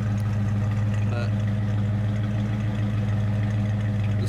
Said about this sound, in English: the sweet tone of a big block idling.